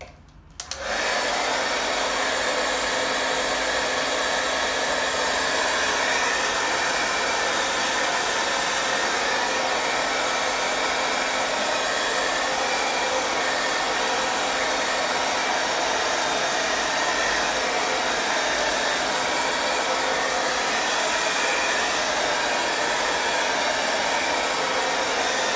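A hair dryer blows on a painting, producing a steady, close, even whoosh that holds unchanged for about twenty-five seconds with no voices.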